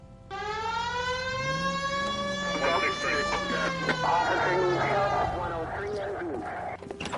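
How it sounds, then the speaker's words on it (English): Police car siren in LA Noire Remastered, a loud rising wail that winds up and keeps cycling for several seconds over engine rumble, with a voice talking underneath. "Hit the siren."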